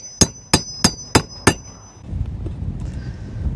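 Five sharp, ringing hammer blows drive fence fasteners close by at an even pace, followed by a low, rumbling shuffle.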